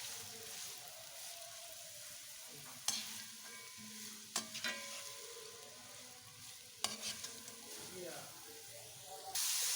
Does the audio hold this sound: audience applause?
no